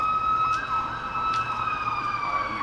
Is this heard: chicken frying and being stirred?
no